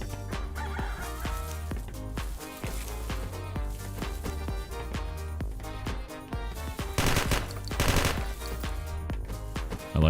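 A submachine gun fires in a video game in rapid, continuous, loud bursts that run steadily throughout with no talking.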